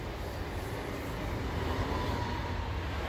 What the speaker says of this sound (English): Oh, there's a train there.